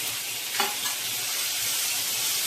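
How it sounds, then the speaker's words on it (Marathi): Tomatoes added onto well-sautéed onion in a pan for a whole masoor lentil curry, a constant broad frying hiss with a brief clink early on. "कांदा चांगला परतून झालेला आहे, तर त्याच्यावर मी टोमॅटो टाकणार आहे."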